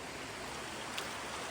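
Steady broadband rush of a pretty waterfall at a woodland creek, continuous and even like falling water, fairly close with no talking over it.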